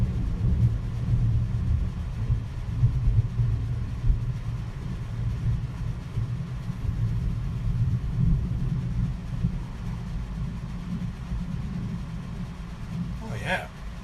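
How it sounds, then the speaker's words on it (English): Deep thunder rolls on continuously as a low, heavy rumble throughout, steady in loudness, with a brief higher crackle near the end. "Whoa, thunder."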